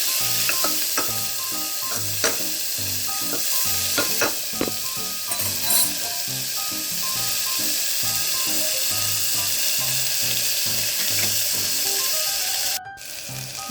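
Dry chillies, curry leaves, onion and tomato frying in a pan for tomato bhaat, a steady close sizzle with repeated scraping and stirring clinks throughout, loud and unbroken, no voices.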